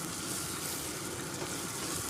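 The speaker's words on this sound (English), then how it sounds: "So we'll start off by frying some onions, get them really soft and sizzling" Onions fry in a pan during cooking in Chennai, India, giving a steady, close, even sizzle with no talking.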